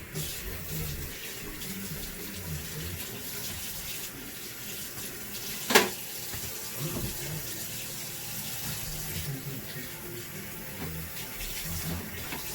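A kitchen tap runs steadily into a sink during washing up, a continuous close splashing stream with one sharp clatter partway through.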